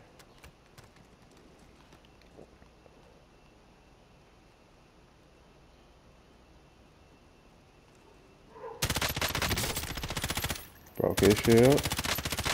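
Bursts of automatic gunfire in a battle royale video game, loud and dense for a few seconds near the end after a long quiet stretch, with a brief spoken line over it.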